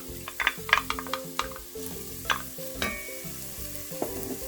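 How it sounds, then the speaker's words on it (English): Chopped onion sizzling as it hits hot olive oil in a pot, with a steady frying hiss, scattered crackles and a few clinks of stirring, all without talk. "In a hot pot, I'm going to add a little bit of olive oil, and then I'm going to add the onion"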